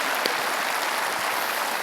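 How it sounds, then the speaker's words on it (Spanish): Church congregation clapping at a sermon, a dense, even burst of applause from many hands filling the room for a couple of seconds, with no voices over it. "Un aplauso a la palabra de Dios."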